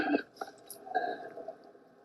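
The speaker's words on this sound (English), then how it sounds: "Even her drinking water is so gross." Someone drinking water, heard as faint, wet mouth sounds and soft sips in short bursts, with a quiet squishy gulp near the start and smaller liquid noises after it.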